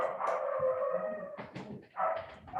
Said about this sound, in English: There are the dogs.